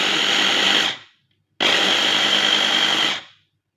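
Blender whipping a hot-smoked salmon forshmak mixture, two loud whirring bursts about a second and a second and a half long, separated by a short silence.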